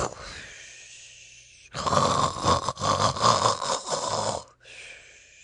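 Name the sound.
badger snoring loudly with snorts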